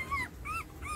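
An American bully puppy whimpers at close range, giving two or three thin, high, drawn-out whines in quick succession, alone and fairly faint.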